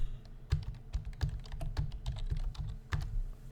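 Quick, close keystrokes on a computer keyboard as data is entered into spreadsheet cells, a steady burst of clicks with a few heavier key presses, no talking.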